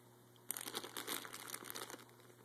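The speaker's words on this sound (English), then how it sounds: "So he's excited about there being new plastic bags for him to eat and get sick on." A pet chews on a plastic bag, giving close, continuous crinkling and crushing with no voices, over a steady low hum.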